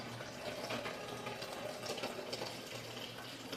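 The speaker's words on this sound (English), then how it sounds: "The warm water is starting to come out, but I don't want too much." Warm water runs steadily from a tap for bathing, a continuous even rush with no breaks, fairly quiet and close, with no talking.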